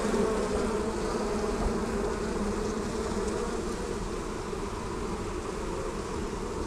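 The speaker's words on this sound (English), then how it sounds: "These are normally quite aggressive, these bees" A dense, steady hum of many honey bees buzzing close by at an open farm hive during inspection, continuous and even throughout with no voices.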